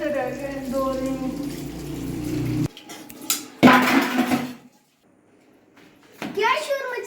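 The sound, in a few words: washing child's toys, one slipping from hand with clatter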